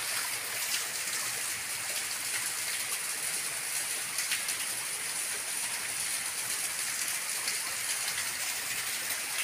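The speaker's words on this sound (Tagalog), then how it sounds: "Bukal po yan." Water from a natural spring beside a mountain river flows in a steady, even hiss and patter, close and unbroken across the whole stretch, with no voices.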